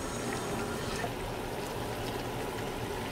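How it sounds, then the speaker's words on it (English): Water poured into a soup pot while cooking, a steady soft rushing and splashing that holds at an even level, close by and without speech. "okay guys, we have to add water"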